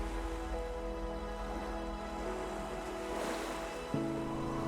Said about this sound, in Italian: Onde atlantiche si infrangono contro scogliere maestose.